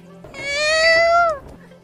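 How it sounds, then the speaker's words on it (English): A single long, drawn-out cat meow, loud and close, rising then falling in a plaintive tone, with nothing else around it. "This is a sad cat."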